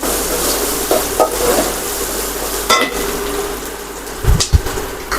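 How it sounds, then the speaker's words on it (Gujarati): Chopped onion sautés quietly in a pan with a soft, steady sizzle, broken by a few scraping stirs and a couple of sharp knocks of a spoon against the pan near the end. "ડુંગળીને આપણે સાંતળી લેશું ડુંગળી કાચી ન રહે ત્યાં સુધી આપણે સાંતળવાની રહેશે"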